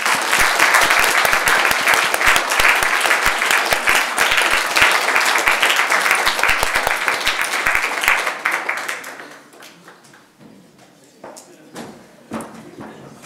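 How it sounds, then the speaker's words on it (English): A dense burst of audience applause at a university live-streamed event, loud and sustained for several seconds before thinning to a few scattered claps, with a voice speaking near the end. "One final round of applause for Laura."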